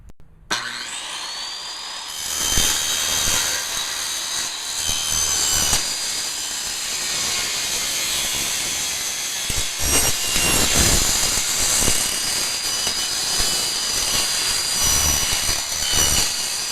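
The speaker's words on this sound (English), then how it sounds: "So I'm going to cut it with the power saw, and I'll show you how well it cuts. And it's loud" A power saw rips through metal house siding in one long, loud continuous cut, its harsh high whine and rasp holding steady for over fifteen seconds close to the microphone.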